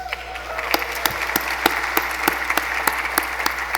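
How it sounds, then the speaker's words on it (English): An audience at Refugees International's 2023 Advocacy Awards keeps up sustained applause, with distinct rhythmic claps cutting through the steady clapping, alongside a low steady hum in the room. "keep the clapping going"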